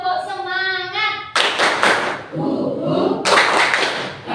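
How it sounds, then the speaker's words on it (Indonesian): An Indonesian classroom of pupils performs a rhythmic 'tepuk semangat' clapping chant, bursts of sharp group claps alternating with chanted voices, loud and close in a lively indoor room. "Tepuk semangat."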